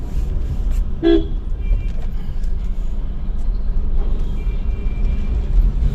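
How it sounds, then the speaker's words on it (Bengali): A short toot of a train horn rises over steady rumbling traffic noise near a busy railway crossing on the NH-12 road from Kolkata to Mayapur, with a continuous low roar throughout. "রেল ট্রেন চলে এসছে"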